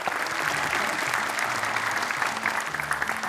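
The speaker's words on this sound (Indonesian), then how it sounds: "tepuk tangan untuk Davandra loh." Steady applause from an audience at a children's event, dense and continuous clapping throughout with a faint murmur of voices underneath.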